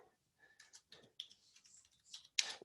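A computer keyboard clicks in a few faint, scattered keystrokes, quiet and close, with a slightly louder tap near the end.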